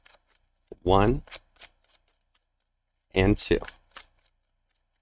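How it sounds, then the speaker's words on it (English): Tarot cards riffle-shuffled twice, two crisp bursts of flicking cardstock separated by a pause, each following brief spoken words nearby. "2 shuffles."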